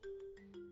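A phone rings in a domestic scene from a Hindi comedy film: a short, faint electronic ringtone of a few sustained melodic tones, heard alone.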